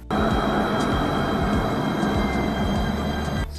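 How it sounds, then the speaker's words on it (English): A Le Havre tram passes close by with a steady loud rumble of wheels on rails, broken by brief squeals, and fades at the end. "So this is Le Havre tram"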